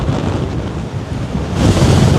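Strong wind at Milford Sound, New Zealand, buffets the microphone in a loud, continuous low roar with a water-like rush, swelling stronger toward the end.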